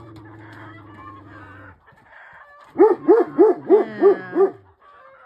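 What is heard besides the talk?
chickens clucking and rooster crowing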